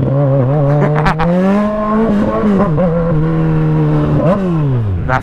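A Kawasaki Z1000 motorcycle with a straight-pipe exhaust revs loudly and close, the engine note climbing and dropping in repeated blips, with sharp throttle rises near the end.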